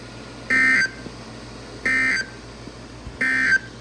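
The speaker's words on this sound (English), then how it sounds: "this is a test of the NOAA Weather Radio Warning Alarm System." NOAA Weather Radio alert tones closing a test of the warning alarm system: three identical steady electronic beeps, each about a third of a second long, evenly spaced over faint background hiss.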